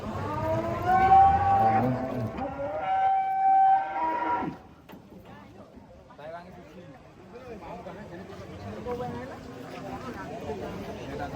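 Cattle moo loudly and close while being unloaded from a truck, a long drawn-out bellow followed by a second call, then quieter shuffling and background noise with voices.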